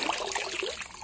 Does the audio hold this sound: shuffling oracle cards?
no